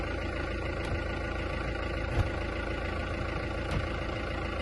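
A van's engine idles steadily with diesel poured into the gearbox for a flush, a constant low rumble with faint knocks, and no one speaking.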